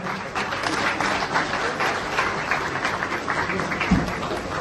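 Crowd applause at a farmers' gathering honouring a guest, a continuous, loud, dense patter of clapping from many hands that lasts throughout, with a brief low thump near the end.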